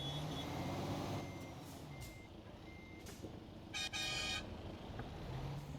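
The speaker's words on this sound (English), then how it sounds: "Do you like my horn?" A truck horn in the video game Euro Truck Simulator 2 gives one short, bright honk over a constant low engine drone, with faint high beeps earlier on.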